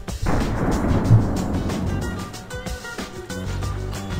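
An M1 Garand rifle firing in World of Guns, a sharp report with a booming tail, followed by a scatter of lighter metallic clicks and clatter of the action cycling.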